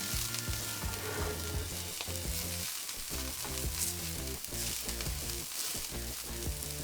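Spring onions fry in a pan, a dense, loud, continuous sizzle with crackling texture and occasional stirring movement, close up and with no speech.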